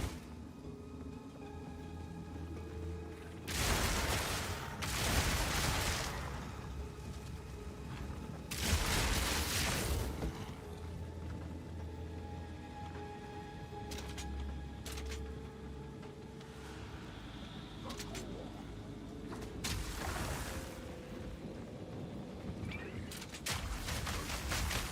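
Explosive Shot detonations in Path of Exile 2 go off as several loud, broad booms at irregular intervals, with steady game noise between them.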